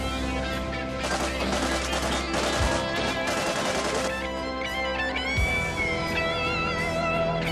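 Gunfire and cannon shots from conflict news footage, dense bursts of rapid shots layered over a constant loud din, with heavy booming thumps standing out near the middle and later.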